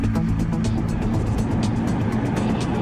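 Southbound traffic on Interstate 29 flows steadily at normal speed, a continuous dense roar of tires and engines with faint rhythmic thumps, close and unbroken.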